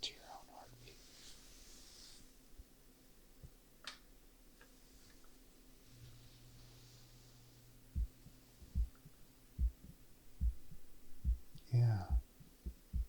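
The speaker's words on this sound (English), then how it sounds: "now I'm going to have you listen to your own heartbeat." Soft, steady heartbeat thumps in an ASMR doctor roleplay, low regular pulses arriving about once a second in the latter half, preceded by quiet whispering and faint ticking, with a brief murmured voice near the end.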